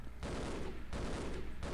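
Gunfire in the Half-Life video game, three long bursts of rapid dense shooting separated by short pauses, loud and close.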